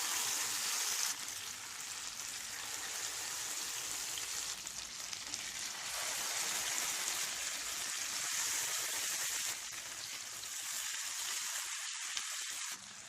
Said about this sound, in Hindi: तेल और घी गरम हो चुके हैं। इसमें हम मैरिनेट किए हुए चिकन के पीसेस रख देते हैं।